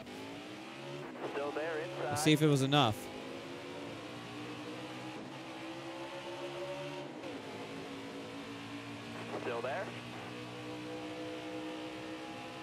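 Race car engines in the NASCAR Heat 4 video game drone steadily with rising and falling pitch, a brief louder burst of revving and tire noise partway through, while someone talks over the racing.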